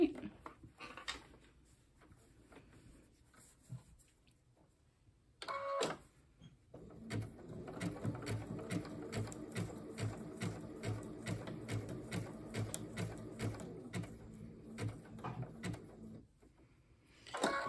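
A sewing machine zigzag-stitching a fabric hexagon applique, a steady mechanical whirring run of about eight seconds at moderate volume, framed by quiet handling sounds and someone talking softly before and after.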